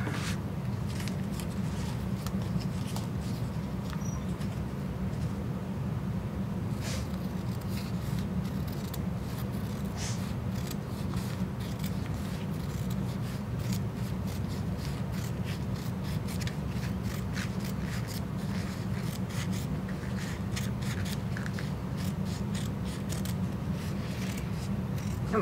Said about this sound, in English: I think I'm going to cut this one in half also.